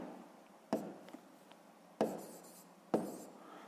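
Pen or chalk tapping and scratching during handwritten math work, three sharp strokes spaced about a second apart over a quiet background, close and clear with no voices.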